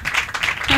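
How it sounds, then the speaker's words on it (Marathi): Congregation applauding during a Marathi Mother's Day church sermon, a short burst of dense, steady clapping across the room, fairly loud and alone. "आज मदर डेला हन्नेसाठी टाळी वाजवा."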